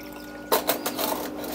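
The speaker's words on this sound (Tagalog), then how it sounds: "Tapos kalating baso ng malamig na tubig." Cold water, about half a glass, poured into a blender, a steady splashing pour that starts abruptly partway through and continues to the end, fairly close and loud with no talking.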